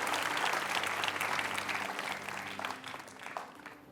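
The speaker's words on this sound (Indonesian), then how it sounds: "Tepuk tangan dulu buat semuanya." Audience applause at a Q&A session of a team-building talk: dense, steady clapping from many hands that slowly thins and fades over four seconds.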